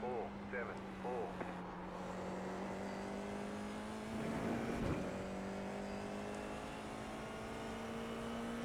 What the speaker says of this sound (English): these cars are absolutely amazing. I absolutely love racing them